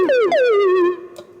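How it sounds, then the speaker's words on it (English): An MRB Zeroscillator synth oscillator in Voltage Modular, with time reversal defining the pitch: a bright, buzzy tone that bends down in a swooping glide, holds, then fades, with a faint second blip just after. "This time the modulator is going to define the pitch because it's going to be reversing this oscillator"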